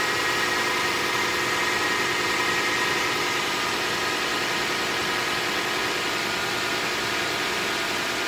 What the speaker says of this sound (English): this is what the engine sounds like